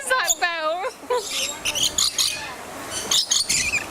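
Small birds at a theme park aviary give quick, high chirps and tweets in scattered bursts, close by, with people talking over them throughout.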